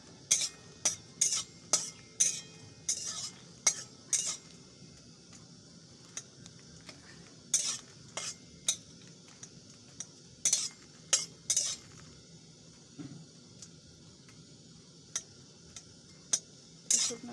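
Dried red chillies fry in a pan as a metal spatula presses them down, making bursts of sharp, rapid clinks and taps against the pan separated by quieter gaps over a faint low background, without speech.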